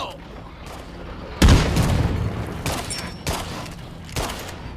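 A grenade explodes in State of Decay 2 among plague zombies, one heavy boom followed by several sharp bursts of gunfire, with a voice speaking in the background.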